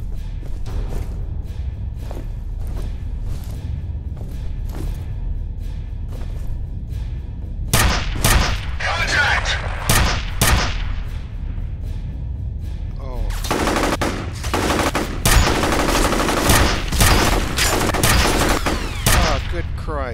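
The Penetrator gun firing in the F.E.A.R. shooter game: evenly spaced heavy shots at first, then louder clustered volleys and rapid bursts, close and dense over a steady low game rumble.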